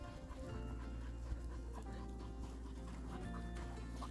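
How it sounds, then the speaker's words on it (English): Dogs pant rapidly and steadily close by during a walk in open sun on an 80-degree day at a Florida lake park, a continuous quick breathy rhythm with faint background noise. "the dogs are kind of panting"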